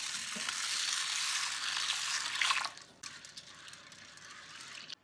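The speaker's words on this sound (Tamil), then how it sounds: "இப்போ இதை தண்ணி ஊற்றி ஒரு 1/2 மணி நேரம் ஊற வச்சுக்கலாம்." Water poured over roasted black gram in a pot, a steady broad rushing splash that runs loud for a couple of seconds and then drops to a quieter trickling patter before ending.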